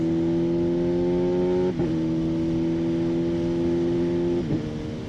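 A Kawasaki ZH2 motorcycle pulls hard on an interstate, its engine note climbing steadily with two quick-shifter upshifts that briefly cut and drop the pitch before it rises again, loud and close.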